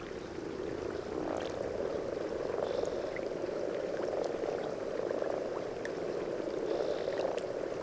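A dense chorus of frogs calling through their noses with mouths shut croaks continuously, many overlapping low calls forming a steady pulsing drone with occasional higher chirps.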